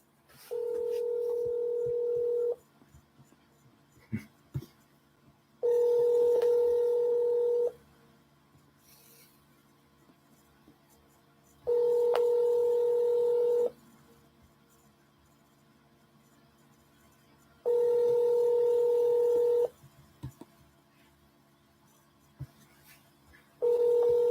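A phone rings back on an outgoing call, with a steady two-tone ringback tone sounding in five even bursts of about two seconds, separated by near silence and faint clicks.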